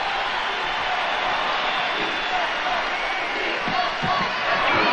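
Basketball arena crowd during a 1997 Lakers versus Trail Blazers playoff game, a dense continuous roar that builds slightly toward the end, with a commentator talking over it.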